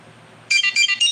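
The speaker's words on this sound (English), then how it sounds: "of Kim Possible beeping" Kim Possible ringtone chirping in a quick electronic beep pattern, three bright repeated bursts, loud and close with nothing else over it.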